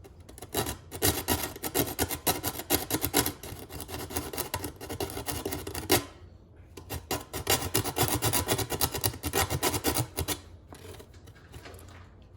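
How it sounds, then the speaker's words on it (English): Steady, brisk rasping of 120 grit sandpaper rubbed back and forth over sharp edges on a laundry hamper cart frame, fairly close and continuous, broken by one brief pause midway. "I use 120 grit sandpaper, and watch how quick this process is."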